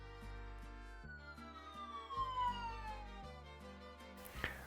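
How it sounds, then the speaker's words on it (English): An ambulance siren wails at a white zebra crossing with flashing beacons in Greater Manchester, its steady electronic tones sweeping and stepping in pitch, fairly distant and heard on its own. "Let's just take a second to admire the response time of this ambulance."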